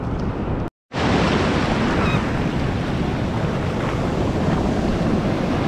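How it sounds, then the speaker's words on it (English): Freezing waves surge on a winter beach in New York City in February. The wash of surf is loud, continuous and close, with heavy wind buffeting the microphone and one brief dropout near the start. "I'm getting beaten up by freezing waves"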